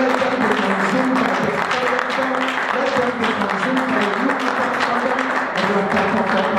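Church congregation clapping hands during a fire prayer session, a continuous busy patter of many hands mixed with voices and a tonal backing throughout.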